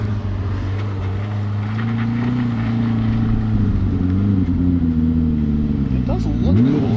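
A Yamaha VMax 4 snowmobile engine revs hard and loud for the whole stretch, a sustained roaring drone that rises and dips in pitch. Near the end the pitch sweeps upward, and people talk over the roar.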